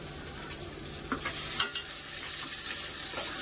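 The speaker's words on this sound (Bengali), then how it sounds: "দিয়ে পেঁয়াজের সাথে ভালো করে ভাজা ভাজা করে যাতে আদা রসুনের কাঁচা গন্ধটা বাড়ি যায়" Ginger-garlic paste and onions fry in a pan with a steady, close hiss and crackle, broken by a few sharp scrapes and clicks of stirring.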